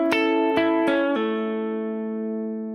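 A capoed guitar plays a few plucked notes from a song's verse, including a pull-off to an open string. A bright strum rings out and slowly decays, alone and close.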